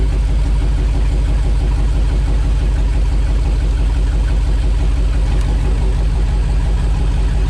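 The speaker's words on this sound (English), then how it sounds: "The engine's idling. Now if I disconnect this plug," A car engine idles steadily up close, a continuous even low rumble throughout with a plug disconnected under the hood.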